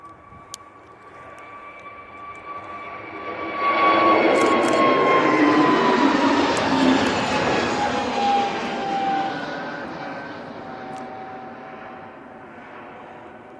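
An airliner leaving Manchester Airport for Oslo brings a rising jet engine roar with a steady whine that swells to a loud, broad peak mid-clip and then slowly recedes into the distance.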